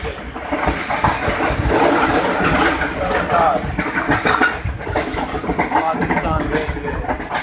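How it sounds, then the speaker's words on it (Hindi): The Karachi Express passenger train of Pakistan Railways runs near Lahore Cantonment station at about 70 speed, giving a loud, steady rumble and rattle with rhythmic clatter throughout. "कराची एक्सप्रेस अपने मंजिल की तरफ रवाना था।"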